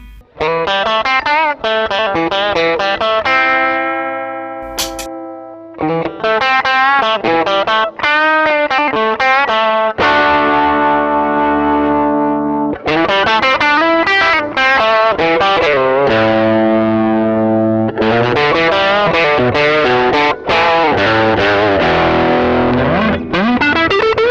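Electric guitar played through a Hello Sailor Range Master treble-booster pedal, loud and continuous with driven, distorted tone, sustained chords and picked runs across the whole stretch, broken by one brief pause.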